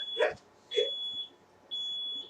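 A kitchen timer beeping, three steady high-pitched electronic tones, the first two short and the last longer, mixed with brief vocal sounds.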